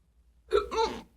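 A single loud, sharp hiccup from a man after eating very hot barbecue food, close and alone in a quiet room.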